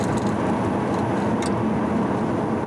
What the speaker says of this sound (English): I'm driving 37 miles per hour at the 6th gear, and that's how it sounds.